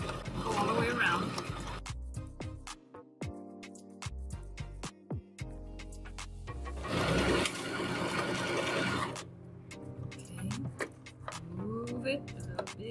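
An electric sewing machine stitching a bone-shaped neck pillow, whirring in short forward and back-stitch bursts with pauses and fabric handling between them, close by, with a voice talking over parts of it.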